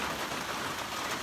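Heavy rain pours down on a trail shelter, a dense, steady hiss of drops drumming without pause, close and even throughout the short stretch.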